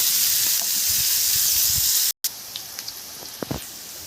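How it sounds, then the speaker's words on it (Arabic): Onion frying in a mix of butter and oil, a steady close hiss and sizzle that cuts out abruptly, then returns as quieter sputtering with a few scattered pops. "هنقطع بصلاية حلوة كده وننزلها في قلب الزبدة والزيت"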